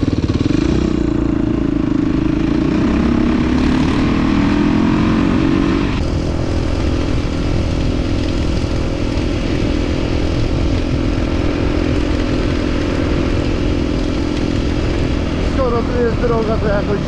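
A KTM SX 350 motocross engine runs loud and near through its exhaust, rising in pitch early, then settling into a steady, rough drone, with voices faintly underneath.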